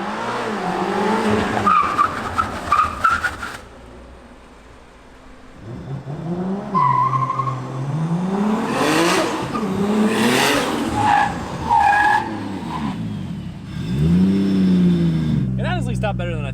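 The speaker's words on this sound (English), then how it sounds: "for this braking test, we're gonna accelerate as fast as we can and then try to come to a dead stop before we hit the fence" A BMW M5 CS or a 2JZ-powered Toyota Chaser accelerates hard, then brakes without ABS, tires squealing and skidding in long rising and falling wails, engine roaring loud and close as people talk over it.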